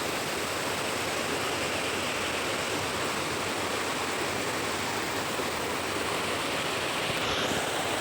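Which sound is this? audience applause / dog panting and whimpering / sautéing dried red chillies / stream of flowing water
stream of flowing water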